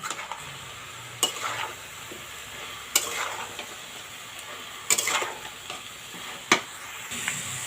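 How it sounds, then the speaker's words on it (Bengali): Spinach frying with fish heads, sugar and spices in a pan, a continuous sizzle broken by several sharp scraping stirs of a spatula against the metal, close by with no voices. "তো মশলাটা সুন্দর করে আমি একটু ভেজে নিচ্ছি, কারণ মশলাটা কাঁচা গন্ধ ছাড়বে।"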